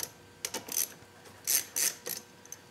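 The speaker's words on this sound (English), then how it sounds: "I'm just going to loosen up these caliper pins to make it easier to get out later." A hand ratchet loosens caliper pins on a 2009 Kawasaki motorcycle in several short bursts of quick clicking, close and fairly quiet, with pauses between strokes and no talking.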